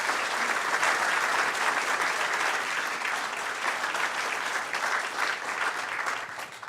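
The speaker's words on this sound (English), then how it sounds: "How about a round of applause for the Sheriff's Office Honor Guard and pipes and drums?" An audience at a sheriff's oath of office ceremony gives sustained applause for the Sheriff's Office honor guard and pipes and drums, a dense steady clatter that tapers slightly at the end.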